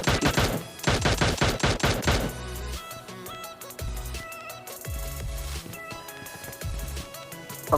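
Gunfire in the mobile battle game PUBG Mobile, a rapid close burst of automatic shots for about two seconds, then quieter scattered game sounds and low thuds as firing stops.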